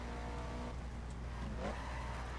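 Car engine from The Crew racing game, a steady droning hum with a brief rise in revs partway through, playing alone without talk.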